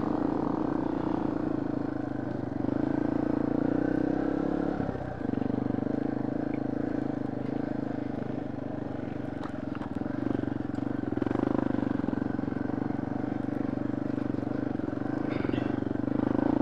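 A small trail motorcycle putters along a trail in low gear, its engine a steady, moderately loud drone with a brief dip and shift partway through, and a voice speaks over it at times.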